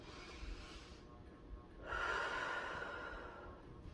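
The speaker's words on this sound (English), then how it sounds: "you breathe in slowly through your nose, and then over the next 3 to 5 steps, you breathe slowly out through your mouth" Slow, deliberate breathing while running: a soft nasal inhale followed by a longer, airy exhale through the mouth, close and quiet.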